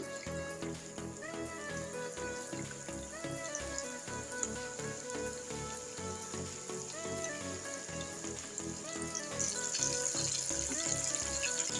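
Chicken wings frying in preheated oil over a medium flame, a dense, continuous crackling sizzle that holds steady and grows brighter toward the end, close and loud with no talk.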